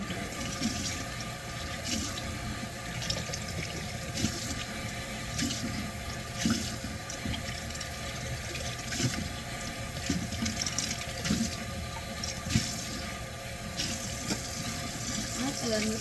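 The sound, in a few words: water running while rinsing out cups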